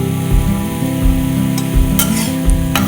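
A spatula stirs poha with boiled beans, carrots, coriander and salt in a hot pan, giving a few distinct scraping strokes over a soft sizzle and a steady background hum.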